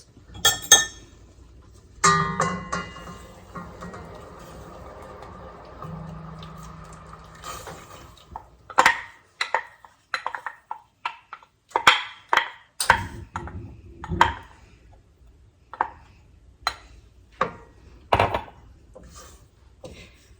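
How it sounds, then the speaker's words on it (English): A spoon stirs thickened cherry juice into a pot of cherry pie filling made from home-canned cherries. Sharp clinks and woody knocks against the pot come in an irregular series, close and clear, with quiet stretches between them. "And then we're going to stir in that thickened cherry juice."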